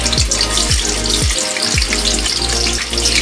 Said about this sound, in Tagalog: Ipirituhin muna natin ang ating tokwa.